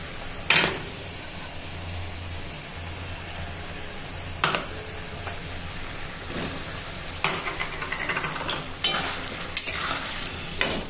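Potatoes added to a pan fry with a steady sizzle while a utensil stirs them, scraping and clattering in several sharp bursts, close and clear.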